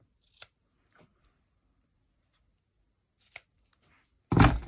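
Scissors trimming the ribbon ends of a gift bow, a few faint isolated snips spaced apart, then one louder, closer cut at the end, with no talk.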